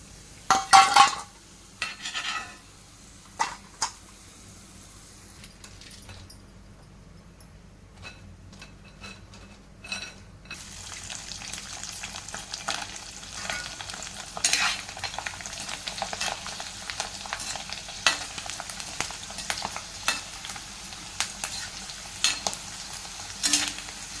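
Sabudana and potato sandge frying in oil, with a soft continuous sizzle broken by clattering utensil and pan knocks as pieces are lifted out, growing busier with spoon stirring and scraping toward the end; nobody speaks.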